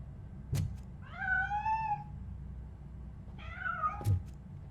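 Two drawn-out cat meows from a cat character in the video game Robocop Rogue City, each a rising and falling cry about a second long, separated by a pause, with faint thumps and low background ambience.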